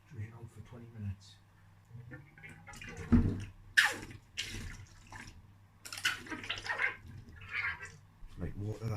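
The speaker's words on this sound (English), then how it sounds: "Now I'm just going to let the oil drain out for 20 minutes." Oil drains from the fork of a DT125R motorbike, a light trickling and dripping of liquid mixed with someone talking nearby.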